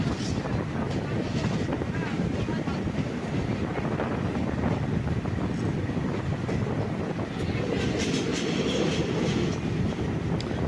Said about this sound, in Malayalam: 450 കിലോമീറ്റർ ദൂരം നമ്മുടെ ഈ ട്രെയിൻ സഞ്ചരിക്കുന്നുണ്ട്.